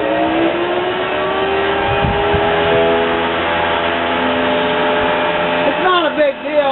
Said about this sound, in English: Let me turn this blower back on.